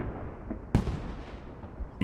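Frag grenade exploding in the military shooter game Squad, a single sharp blast cutting through a constant rumble of distant battle noise, followed by a short trailing crackle and a faint second thump at the end.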